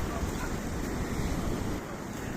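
Stormy sea with waves and strong wind roaring in a dense, continuous rush, loud and close, with heavy wind buffeting on the microphone.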